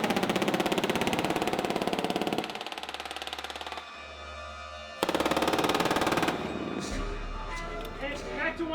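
An M240 Bravo machine gun firing blank rounds on a film set, loud sustained automatic bursts in two long strings separated by a brief pause, with an engine-like drone and voices mixed in.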